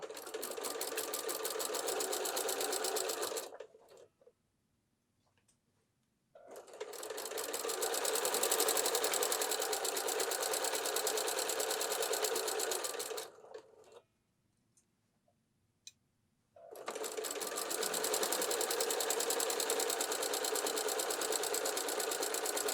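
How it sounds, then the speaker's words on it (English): A sewing machine stitches the pockets of a waist apron in three long, steady runs of rapid mechanical ticking, close and clear, separated by short pauses for pivoting with the needle down. "When we get near the end, needle down, pivot, and keep sewing."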